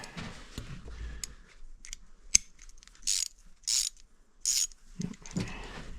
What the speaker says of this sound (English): I'm probably gonna grab my small wrench here.